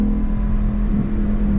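A 2019 Ford Mustang Bullitt's V8 exhaust roars in a steady, loud rev with a sustained engine drone throughout, recorded up close with no talking.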